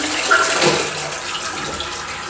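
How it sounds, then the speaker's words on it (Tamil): Water flowing into a toilet flush tank under leakage repair, a steady soft hiss of running water at moderate level with a faint splash near the start, no talking. "தண்ணி வருது."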